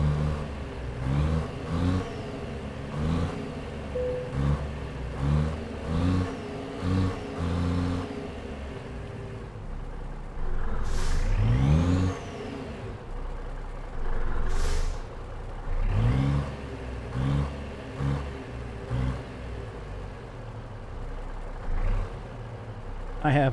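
American Truck Simulator semi truck backing a trailer in, its diesel engine idling and revving in uneven surges, punctuated by sharp hissing air-brake releases, with a voice talking at times.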